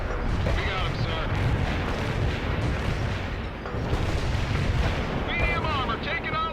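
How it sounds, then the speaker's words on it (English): Mortar strike explosions in the war video game World in Conflict rumble as a dense, continuous barrage of booms and blasts, loud and near, with voices and radio chatter mixed in underneath. "Mortar strike completed."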